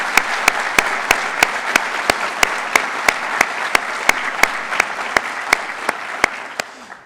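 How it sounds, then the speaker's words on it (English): A county audience applauds Mayor Evans at a State of the County address, steady clapping with a few sharp, evenly spaced claps standing out, continuing for several seconds before tapering off at the end. "Let's give him a round of applause."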